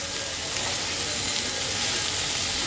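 Chopped radish greens fry in a pan with onion and garlic, giving a loud, steady, close sizzle that continues without a break and has no talk over it.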